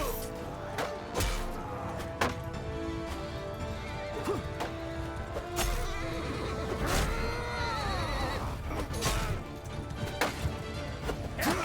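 Horses neigh and whinny repeatedly over clip-clop hooves and clashing combat noise in a cavalry battle in the video game Mount & Blade II: Bannerlord, with several loud, rising-and-falling whinnies standing out above the din.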